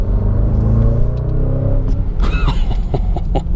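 A 2019 Jaguar F-Pace SVR, 550 hp, rumbles loud and close with its exhaust valves open, a deep growling roar that swells and rises in pitch with a couple of sharp crackles near the end.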